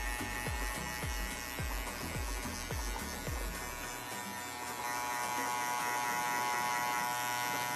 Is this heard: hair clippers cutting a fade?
yes